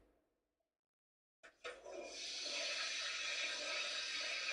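A toilet flush sound effect played on a live stream starts after a second of silence, a sudden gush that settles into a steady rushing of water.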